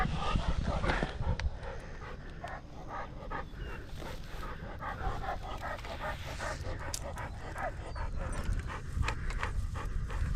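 Wally, a dog, pants rapidly and steadily up close for about ten seconds, with breathy rhythmic huffs and a few faint whimpers mixed in.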